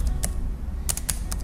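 Computer keyboard typing during a CorelDraw software tutorial: a handful of crisp, separate key clicks, close and fairly loud, with short gaps between them over a quiet background and no talking.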